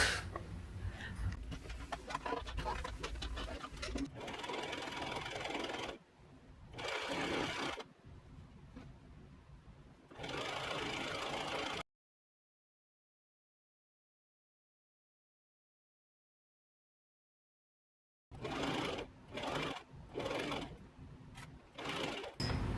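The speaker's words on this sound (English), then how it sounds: "I am gonna iron the top tier and machine gather this to attach it." Sewing machine running gathering stitches across the top tier of a puff sleeve tiered dress, in several bursts of steady whirring stitching separated by pauses and a long stretch of silence, close and moderately loud.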